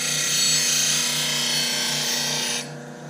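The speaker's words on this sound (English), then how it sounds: "then you just start grinding it and swinging, just like that" A 40-40 woodturning gouge being sharpened on a bench grinder while swung across the wheel, giving a loud, steady, close grinding hiss over a humming motor that eases off near the end.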